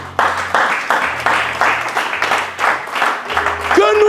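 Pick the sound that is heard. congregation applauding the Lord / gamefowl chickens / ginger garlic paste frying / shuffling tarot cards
congregation applauding the Lord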